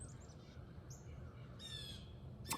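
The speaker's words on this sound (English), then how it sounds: "wow, that bird is so talkative today" A bird squawks and caws outdoors in a few harsh, scattered calls, distant and faint over a steady low background rumble, with no talking.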